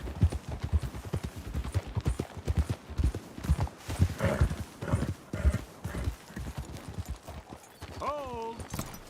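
Heavy galloping hooves of several horses in Red Dead Redemption 2, loud and rhythmic, then slowing, with a horse whinnying near the end and voices calling over the riding.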